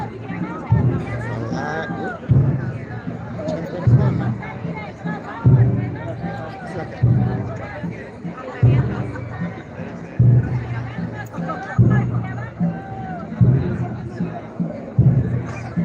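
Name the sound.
crowd chatter as people push through near a cathedral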